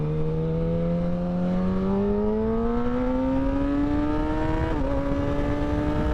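Kawasaki Ninja ZX10R sport bike accelerating hard, its whine climbing steadily in pitch before a quick-shifter gear change near the end briefly drops it, then it keeps pulling, loud and close with no talking.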